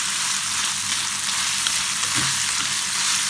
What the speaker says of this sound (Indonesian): Kita masukin semua kulitnya. Aduk sebentar aja supaya agak matang sedikit.